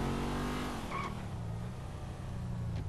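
Car engine from GTA 5 gameplay, steady and loud throughout, with the pitch dropping as it slows and a brief tire squeal near the middle.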